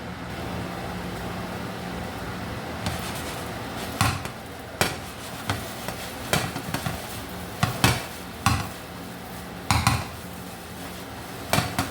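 Hart teriyaki chicken stir fry being stirred in a pan, repeated sharp metallic scrapes and clanks of a utensil against the pan over a faint sizzle, irregular strokes growing busier in the second half.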